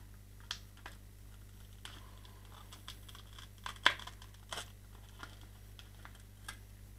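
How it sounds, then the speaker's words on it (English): Small, sparse snips and crinkles come from a thin piece being cut to shape for a model aircraft canopy, close and quiet against a low steady hum. "cut it into shape"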